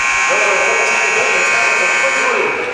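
A basketball game-ending buzzer blares in a gym, a loud sustained electric buzz lasting nearly three seconds with crowd noise and voices underneath.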